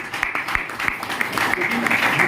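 An audience at a celebration event in Gurgaon claps loudly, sharp overlapping claps running throughout while a voice talks over them.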